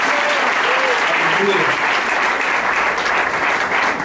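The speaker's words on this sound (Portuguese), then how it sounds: "Pode aplaudir Jesus" Church congregation applauding during an evangelical Pentecostal service, a dense, steady wash of clapping held at full level throughout, with a voice calling out over the start.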